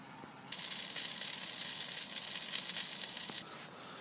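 Sausages sizzling in a pan outdoors, a steady bright hiss that starts abruptly, holds for about three seconds, then cuts off, faint and without speech.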